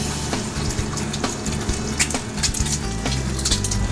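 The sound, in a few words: food frying and bubbling in hot oil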